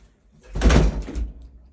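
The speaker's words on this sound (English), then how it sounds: "Closes the door." A door to a dark root cellar swings shut, one soft dull thud with a brief low rumble and short tail, close by in a quiet room.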